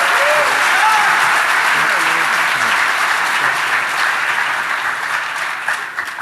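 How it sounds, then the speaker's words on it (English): A conference crowd at the DEF CON 21 hacking convention applauds a first-time speaker, with loud, dense clapping that runs steadily for several seconds while voices talk and cheer underneath, tapering near the end. "How about a round of applause for our first-time speaker and for our first-time attendee?"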